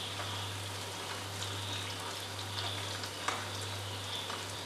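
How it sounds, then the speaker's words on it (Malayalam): Potato murukku deep-frying in a pan of bubbling oil, a soft, even crackling sizzle with scattered small pops over a low steady hum. "നല്ലപോലെ ഫ്രൈ ആയി കഴിയുമ്പോൾ ഈ എണ്ണയുടെ ഇങ്ങനെ തിളച്ചുകൊണ്ടിരിക്കുന്നത് കുറഞ്ഞു വരും"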